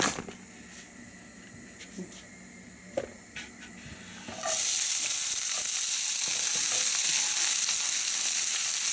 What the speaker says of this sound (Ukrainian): Починаємо її жарити.